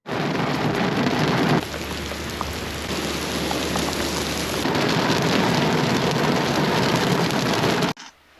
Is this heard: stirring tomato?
no